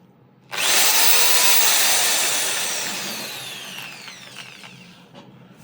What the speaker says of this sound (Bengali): এটা ড্রিল ফাংশন